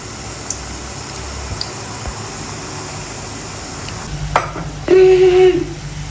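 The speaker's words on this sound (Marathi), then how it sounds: "स्लो गॅसवर मी चकल्या तळायला सुरुवात केलेली आहे" Chakli frying in oil over a low gas flame, giving a continuous soft bubbling sizzle, close and steady, with a brief clatter and a short tonal hum near the end.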